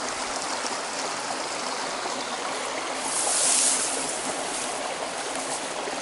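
Stream water flows steadily close by, an even rushing burble with a brief swell of louder splashing partway through.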